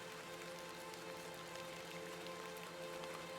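Steady rain patters continuously and softly in the video game Hob's Barrow, with a faint low hum beneath it and no voices.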